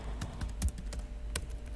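Typing a chmod command on a computer keyboard: a quick, close run of light key taps, irregular and crisp, in a quiet room.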